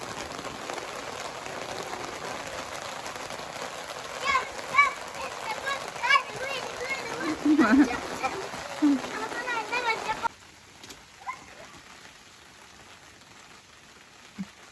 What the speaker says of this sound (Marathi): इथं जोराचा पाऊस चालू झालाय